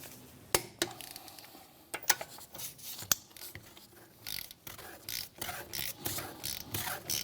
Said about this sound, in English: grab our 17mm socket, set it to 73 foot-pounds torque, and we're going to run around these lug nuts in a star pattern